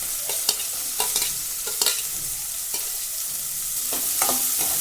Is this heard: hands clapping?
no